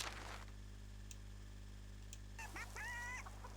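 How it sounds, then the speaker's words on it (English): A hen in the medieval farming game Medieval Dynasty gives a short run of clucks near the end, over a steady low hum. "And that's a hen."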